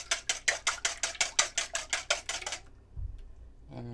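Two eggs beaten with a whisk in a bowl: about fourteen quick, even metallic clinks in steady rhythm, close and clear, then the whisking stops and the room goes quiet.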